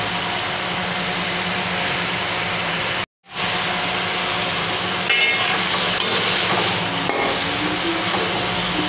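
Potatoes sautéing in a pan for a Bengali fish curry with cauliflower and spinach, a steady close sizzle with light stirring and a clink or two, broken by a brief dropout near the middle.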